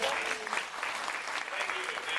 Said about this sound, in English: I think that deserves a round of applause, everybody.